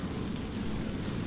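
Heavy rain falling outside a sailing boat, a steady, dense wash of drumming drops that fills the whole moment with no break and no voices.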